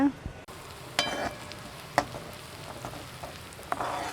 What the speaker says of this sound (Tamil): இப்போ வந்து வெங்காயம் பாருங்கள், சூப்பராக வதங்கியிருக்கு